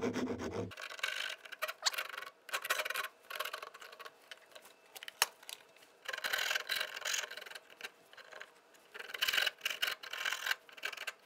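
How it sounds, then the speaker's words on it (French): Flat side of a wood rasp rough-shaping a tenon shoulder, close rhythmic rasping strokes of varying length with short pauses between them. "La râpe à bois, comme ça, vous pourrez dégrossir déjà un maximum"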